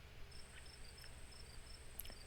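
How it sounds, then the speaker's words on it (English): Crickets chirp quietly at night in a sleepy neighborhood in the video game Scarlet Hollow, a faint steady series of short high trills repeating over a soft hushed background. "crickets singing quietly in the sleepy little neighborhood"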